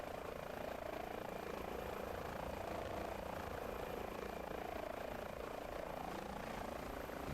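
An Airbus H145 helicopter holds a hover in Microsoft Flight Simulator 2024, its rotor and turbine making a steady, even whir that runs on alone without a break.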